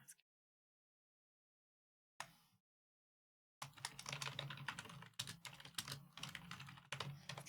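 Keys clatter on a computer keyboard, a brief tap or two followed after a pause by a rapid, steady run of close, crisp typing.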